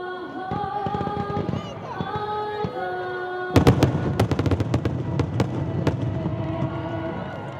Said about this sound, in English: folks were sitting in the stands here at Hazelton area's football stadium watching fireworks shoot off.